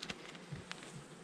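Honeybees buzz around an opened, gentle hive during an inspection, a soft, brief, close hum with a couple of faint flickers and no voices.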